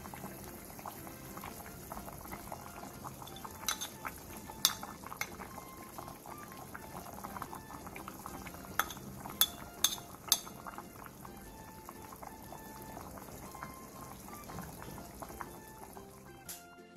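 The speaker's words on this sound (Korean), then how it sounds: "15분 뒤 새우젓 1스푼, 콩비지 2컵, 청양고추, 대파를 넣고 5분 정도 더 끓여주세요." A pot of Korean bean curd stew (biji jjigae) with salted shrimp, chilli and green onion simmers steadily, making a constant close bubbling with occasional faint clinks and no talking.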